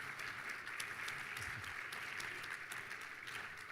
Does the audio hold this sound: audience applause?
yes